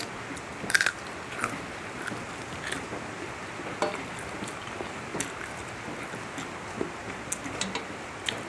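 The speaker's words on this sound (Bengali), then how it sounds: "খুব পছন্দের লেগ পিস, এর হাড়টাও কিন্তু চিবিয়ে খেয়ে নিই আমি" Bites and crunchy chewing on a chicken leg piece, bone included, come as scattered close crackles and snaps over a steady low background hiss, with one sharper crunch near the start.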